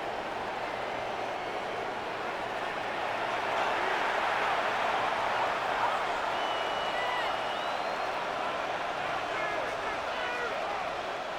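A stadium crowd roars in the Madden 26 football video game during a Buffalo Bills at Miami Dolphins matchup, a steady broad swell of cheering that builds slightly in the middle and holds throughout.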